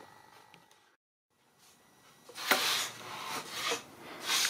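Model aircraft parts for a radio-controlled PBM Martin Mariner flying boat sanded by hand to fit, heard as close, rough rasping strokes that build in loudness after a brief silence, with no talking.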